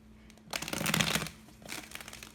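Tarot cards are shuffled by hand in two close bursts of papery riffling, the first longer and louder and the second softer, heard alone without talk.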